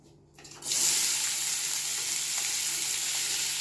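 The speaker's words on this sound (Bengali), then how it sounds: "এই তেলের মধ্যেই আমাদের যে পেঁয়াজ কুচিগুলো রাখা ছিল সেইগুলো দিয়ে দেবো পেঁয়াজ আর রসুনটা" Chopped onion and garlic drop into hot oil and burst into a loud, steady sizzle after a brief quiet start, frying continuously with a few faint stirring clicks and no talking.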